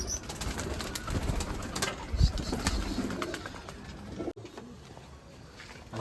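A flock of pigeons coos on a rooftop, a dense, steady murmur of overlapping calls with scattered clicks and flutters close by, and a brief dropout near the end.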